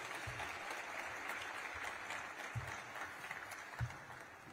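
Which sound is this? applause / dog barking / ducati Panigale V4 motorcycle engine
applause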